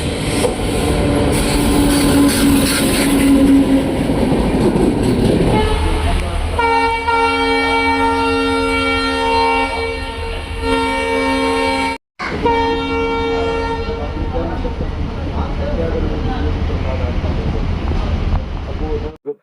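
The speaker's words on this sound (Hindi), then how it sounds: "लेकिन कुछ देर में ही ट्रेन पहुँचने वाली है" A train pulls into a station, approaching with rumble and clatter, then a long, loud multi-tone horn blares for several seconds; after a brief cut the horn and rolling noise continue, with someone talking over the opening.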